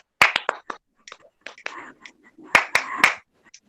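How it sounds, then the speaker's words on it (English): Webinar participants clapping along in a session on emotional intelligence for educators, several sharp, close claps in short uneven clusters with quiet gaps and faint voices between them. "and clap like this"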